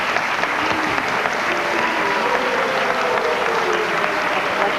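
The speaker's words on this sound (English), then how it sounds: "Please hold the applause." Broad audience applause at an award show, an even roar of many hands clapping, with a little crowd murmur mixed in and no pause.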